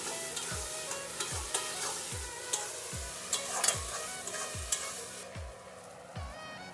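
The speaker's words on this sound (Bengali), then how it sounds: "দিয়ে ভালো করে আবারও কষিয়ে নেব।" Potol bharta mixture sautéed in a pan, with a constant sizzle and regular scraping strokes of a spatula stirring it roughly every half second, close and clear with no talking.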